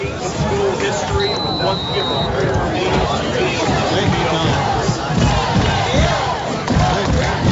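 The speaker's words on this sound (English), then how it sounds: "An excited crowd here at Monroe" An excited crowd at a high school regional playoff football game at Monroe roars and cheers continuously, a loud dense wash of voices with shouts and a whistle, under a nearby announcer's talk.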